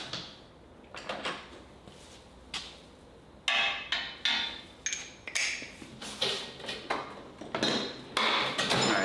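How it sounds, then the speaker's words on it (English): A hammer taps a bearing out of a Yamaha YFZ part during a 2023 frame-up off-road bike rebuild, giving a dozen or so sharp metallic knocks at an uneven, quickening pace, close and fairly loud. "then we can tap the bearing back through"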